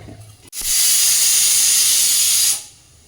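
Green chillies hit a hot pan and sizzle in one loud, steady hiss that starts abruptly, holds for about two seconds, then fades, close up and with no voices.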